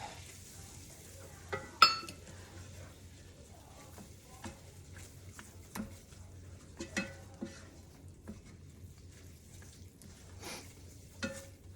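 Flour roux browning in meatball drippings in a pan, a steady low sizzle with scattered clinks and scrapes of a utensil stirring, no talking.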